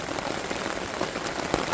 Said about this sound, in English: Dude, it's raining so hard right now.